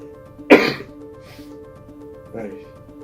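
A single sharp cough from a person near the microphone, followed a couple of seconds later by a softer second cough or throat clearing, over a quiet room with faint background hum.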